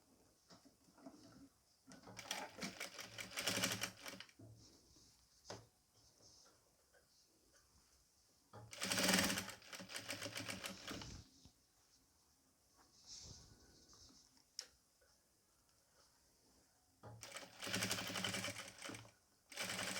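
A sewing machine stitches narrow piping onto a nightie in several bursts, each a rapid run of close mechanical ticking separated by quiet pauses, near and clear with no talk.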